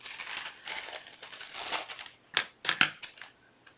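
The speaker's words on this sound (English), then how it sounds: "So I'm gonna go ahead and cut it." Scissors cutting clear paper scraps for a desktop frame craft, a run of crisp snips and rustling crinkles up close, ending in several sharper distinct cuts, no talking.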